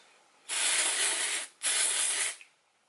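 Fave4 Dirty to Flirty dry shampoo sprays from an aerosol can in two close, sustained hissing bursts of about a second each, separated by a short pause, bright and near against a quiet room.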